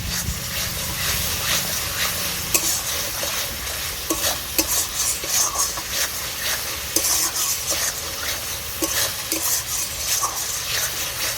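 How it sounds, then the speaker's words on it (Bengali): Masala paste of onion, ginger and garlic fries and sizzles loudly in a pan while a spoon stirs it, scraping in repeated sharp strokes. "মশলাটাকে আমি আর কিছুক্ষণ কষিয়ে নেব যাতে আদা রসুনের কাঁচা গন্ধটা না থাকে"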